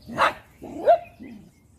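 A dog gives two or three short barks at moderate distance, the first and second sharpest and the last softer, with no talking over them.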